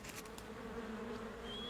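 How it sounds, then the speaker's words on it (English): A sand wasp buzzes steadily in a rainforest setting, a continuous low droning hum that is faint and close, with no voices. "sand wasps excavate 5-inch deep tunnels where they lay a single egg"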